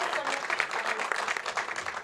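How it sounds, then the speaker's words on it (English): An audience claps at a Q&A event, a steady, moderately loud patter of many hands lasting a couple of seconds. "One more round of applause for our guests."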